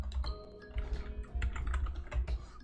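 Quick, uneven keystrokes on a computer keyboard, clattering in bursts with short pauses, close and fairly quiet, with no voices.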